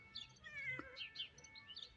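A cat meows faintly and briefly outdoors in a spring garden of tulips during weeding, with light bird chirps around it and no talking.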